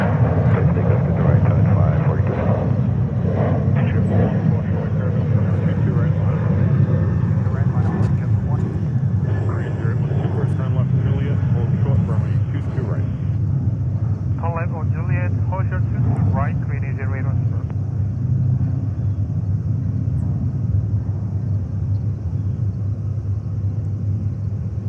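A Boeing 747 airliner at JFK prepares for takeoff, producing a steady, loud low engine rumble that runs through the whole stretch, with a voice talking over it.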